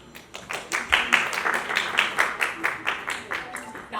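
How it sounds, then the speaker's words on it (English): Applause rises at a product launch event, a crowd's quick rhythmic clapping in tight, regular bursts that carry evenly throughout, with some voices mixed underneath. "huge round of applause"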